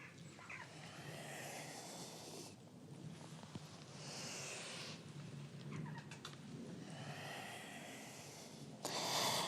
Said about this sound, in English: Inhale as you arch. Exhale as you round. A few more breaths like this.